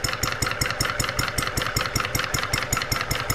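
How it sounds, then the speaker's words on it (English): A Sterling Kit hot bulb horizontal mill engine runs steadily, its rapid, even chuffing beats repeating at a fast regular rhythm, close and loud with no talking over it. "They sell them as the hot bulb engine."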